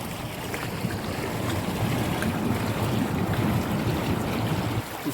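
Water rushing through the mouth of a stream channel about four feet wide and a foot deep at a picnic spot, a loud, continuous broadband roar close by with no voices.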